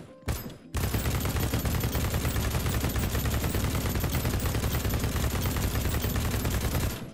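Sustained automatic fire from an Ultimax light machine gun fitted with a heavy barrel in BattleBit Remastered rattles loud and close after a brief opening shot, running as a continuous rapid burst almost to the end.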